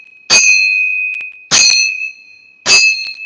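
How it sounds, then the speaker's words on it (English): Temple bells struck three times at a steady, unhurried pace, each ring a bright, sustained metallic tone that lingers and slowly fades before the next strike, close and clear with no talking. "As you hear the sound of the temple bells,"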